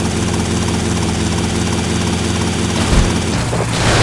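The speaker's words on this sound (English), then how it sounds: "Helicopter." A police helicopter's rotor in Grand Theft Auto: Vice City thrums steadily and loudly throughout, a continuous engine drone with rhythmic chopping pulses, shifting slightly near the end.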